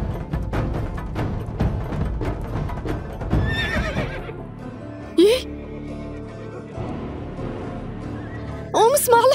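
A horse in a barn gives loud whinnies and neighs, with hoof clip-clops and rustling early on, then two more sharp neighs later, heard up close.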